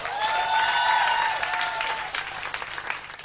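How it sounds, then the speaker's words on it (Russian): Applause breaks out from a Russian-speaking audience before a comedy sketch, broad steady clapping heard alongside sustained musical tones, strongest early and then thinning slightly toward the end. "Ваши аплодисменты."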